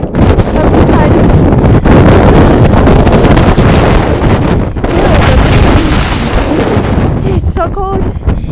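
Strong, cold wind on a mountain trail during a Pacific Crest Trail hike buffets the microphone in a loud, continuous roar with gusty surges, and a brief faint sound near the end.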